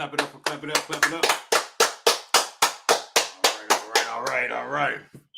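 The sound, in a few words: hands clapping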